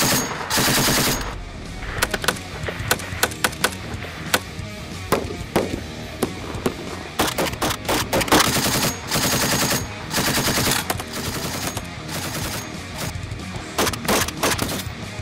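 Gunfire in a combat scene with smoke in use: loud bursts of rapid machine-gun fire and single shots crowd the whole stretch, close and dense with no talk.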